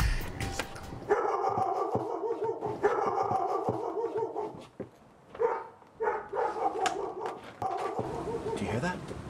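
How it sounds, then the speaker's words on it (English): A dog named as hating the doorbell barks repeatedly in a house, with loud, close, rhythmic barks and yips in bursts across the clip, mixed with people talking over it. "Yeah. That's my dog, Peaches."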